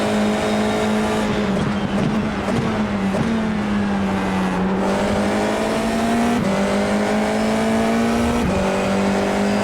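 An F4 open-wheel race car engine in iRacing at the Hockenheim National circuit, loud and close, revving high and steady with repeated rising pitch sweeps at gear shifts, and a faint tire squeal among them.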